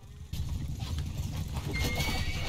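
In the Mount and Blade II: Bannerlord video game, horse hooves clatter amid a dense, noisy battle din, with a brief whinny-like tone near the end.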